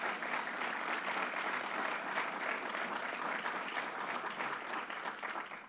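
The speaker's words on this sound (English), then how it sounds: "So let's give them another round of applause." An audience at a governor's bill-signing event claps in steady, full applause that holds throughout, then fades slightly toward the end.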